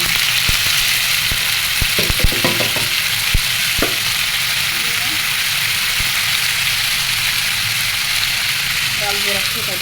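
Potatoes, tomato, onion, green chilli and garlic fry in hot oil for dal chachchari, a steady loud sizzle with a few sharp clicks of stirring and the spoon against the pan early on.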